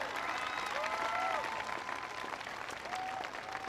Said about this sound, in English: give Joe a big round of applause for the wonderful introduction.